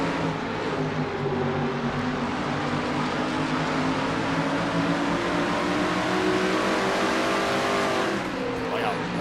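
Race cars in a NASCAR-style Castrol GTX Cup Series night race at Richmond, Virginia roar around the track with layered revving engines, rising and falling pitch as cars pass, under commentator talk throughout.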